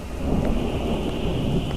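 A thunderstorm in the GoreBox video game: heavy rain roars steadily while rolling thunder rumbles low and loud throughout, with no talk over it.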